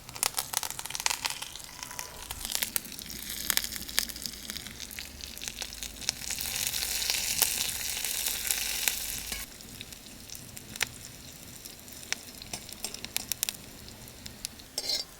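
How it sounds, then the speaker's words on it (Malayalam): Mustard seeds, onion, two dried red chilies and curry leaves fry in hot oil as a tempering for tomato curry, giving a dense, continuous close-up sizzle dotted with sharp popping crackles that swells midway and then settles. "ഇത് കടുക് വറുത്ത് നമുക്ക് കറിയിലേക്ക് ഒഴിച്ചു കൊടുക്കാം."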